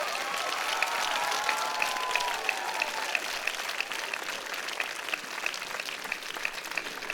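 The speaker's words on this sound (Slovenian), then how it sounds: "Lahko pa damo kar en aplavz, vsakič, ko povem eno ime." An audience at a choir event in Ribno claps for an award recipient, with dense, steady applause holding at an even level throughout and no speech over it.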